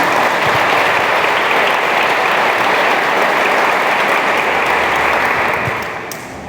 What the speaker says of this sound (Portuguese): Gostaria de dar uma salva de palmas para ele